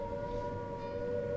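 An air raid siren from the Blitz in 1943 sounds a steady, loud wailing tone that is held without a break.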